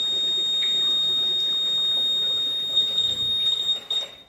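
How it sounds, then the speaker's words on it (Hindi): An electronic alarm on a flood warning science exhibition model sounds as a loud, steady high-pitched tone that runs continuously, then breaks into shorter uneven beeps near the end, close by with no talk. "अब ये अलार्म बजा था या सायरन बजा था"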